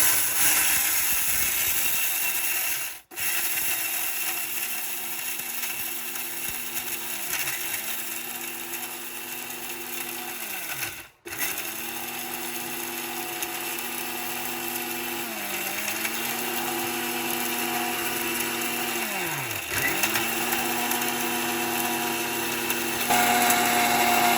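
A Philips blender mixer grinder runs steadily for the whole stretch with a continuous motor whine, its pitch dipping and recovering several times as the load shifts, and two brief cutouts where the motor stops and restarts.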